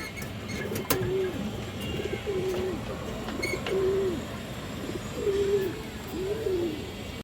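Domestic pigeons at a pigeon market give a few spaced coos over a busy background of low murmur and scattered clicks.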